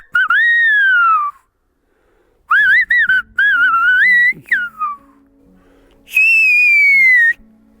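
A silbador whistles Canarian silbo in sharp, piercing phrases with rising and falling pitch glides. The phrases come in several separate bursts with short silences between them, and a faint low hum sits underneath.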